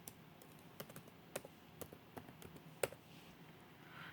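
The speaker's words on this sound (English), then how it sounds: "And then you type in what you are going to say, which I'm doing my business name." Typing on a computer keyboard while entering a business name in Impact font, with scattered individual key clicks and a few sharper taps at an irregular, unhurried pace, close and quiet, no voices.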